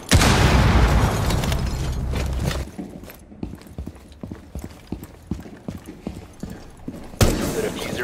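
A frag grenade blast in Rainbow Six Siege hits with a loud, rumbling boom that fills the first few seconds. The roar then cuts away to quick, clattering footsteps and small impacts.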